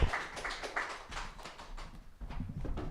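Audience clapping at a Melbourne Fringe comedy quiz show as a comedian is introduced, a scattered, moderately loud patter of hands that thins out over a few seconds.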